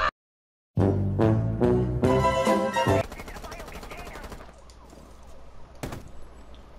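Gunfire in Rainbow Six Siege comes as sharp repeated bursts, rapid shots packed together in the first half, then a quieter clattering tail and one last crack near the end.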